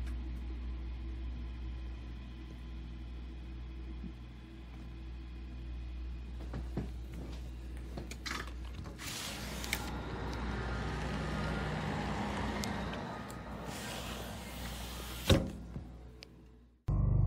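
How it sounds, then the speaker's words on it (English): An ice cream truck drives by late at night, a low engine rumble building and passing close, with bursts of brighter noise as it goes and no voices. "seeing an ice cream truck drive by at such a late time"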